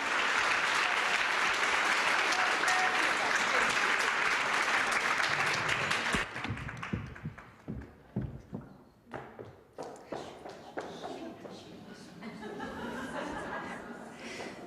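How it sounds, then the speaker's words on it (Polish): Audience applause in a hall after a panel of women MPs hears a thank-you, dense and loud for about six seconds, then thinning into scattered claps and a few chuckles. "Brawa."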